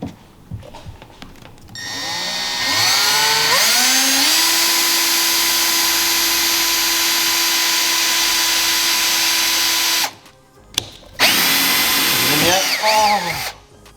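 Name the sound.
power drill drilling a Sea-doo part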